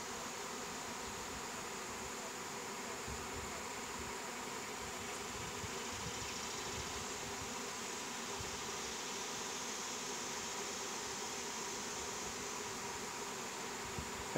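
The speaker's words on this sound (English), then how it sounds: "Now what I'm trying to do is stir them up so that if she's in the hive, they'll go to the hive now." A stirred-up honey bee swarm hums in a dense, steady buzz that holds at an even loudness and stays close throughout, with no voices over it.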